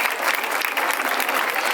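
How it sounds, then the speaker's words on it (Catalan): Hearty applause from a hometown audience in l'Eliana honoring the parents of a singing contest winner, loud, dense clapping sustained throughout the brief moment with no speech. "I demano un fort aplaudiment per a ells."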